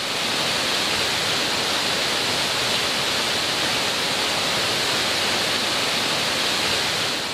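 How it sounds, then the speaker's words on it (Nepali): Bhulbhule waterfall, set at the foot of a forest, rushes in a loud, unbroken broadband roar that stays even from start to finish with no voices. "एक नासले झरर गरिरहेको आवाज सहित मनोरम दृश्य देखिन्छ।"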